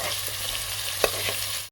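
Prawns and bell pepper sizzling in a hot pan of vegetable pasta, a steady close frying hiss with a sharp scrape of stirring midway.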